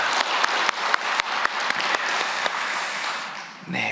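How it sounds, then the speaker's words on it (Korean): A church congregation at an early-morning prayer service applauds the choir, a moderate patter of clapping with a few sharp individual claps standing out, fading after a few seconds. "임마누엘 찬양대에게 감사의 박수 드리도록 하겠습니다"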